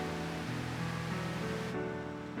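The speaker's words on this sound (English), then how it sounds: "This is a water wheel to catch salmon on the Chitose River" Water wheel built in 1896 to catch migrating salmon on the Chitose River, turning in the current with a steady, dense rush and splash of flowing water throughout.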